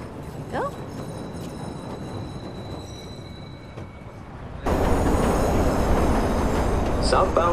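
Subway train arriving in the Watch Dogs video game, a rumbling rail roar that jumps louder midway as the train pulls in, with brief squeals and an announcer-style voice heard over the station ambience.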